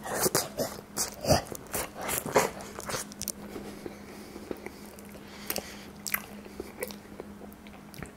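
Close, wet chewing and biting noises from eating a banana, a run of squishy, smacking mouth sounds with small clicks, loudest in the first seconds and continuing steadily.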